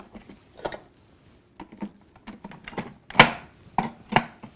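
A food processor pulses chocolate cookie dough in short, uneven bursts: a series of sharp thuds and whirring chops separated by brief pauses, close and fairly loud.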